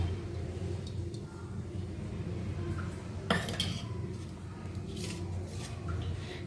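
Roasted spices for a veg masala biryani are tipped from a kadai into another metal pot: light metallic scrapes and clinks over a steady kitchen hum, with one sharp clank near the middle.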